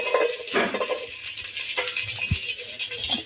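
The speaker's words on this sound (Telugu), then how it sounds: "పచ్చి బఠానా, ఉల్లిపాయలు, క్యారెట్ వేసుకొని కలుపుకోవాలి" Green chillies, peas, onion and carrot stirred in hot oil in a pan, with a steady broadband sizzle and several scraping, rattling utensil strokes against the metal, close and fairly loud throughout.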